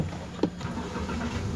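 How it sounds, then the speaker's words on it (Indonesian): A car engine cranks and catches briefly during a steering rack repair check, a short muffled start that settles into a low steady idle, close and moderate in level with no speech. "Kita nyalakan mesin."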